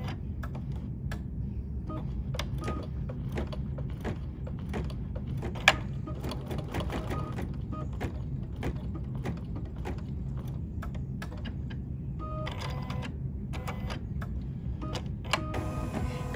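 An embroidery machine stitches a monochromatic design nonstop, giving a low continuous mechanical drone with dense, rapid ticking and clicking throughout, steady in level.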